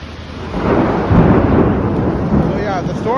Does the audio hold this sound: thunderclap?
yes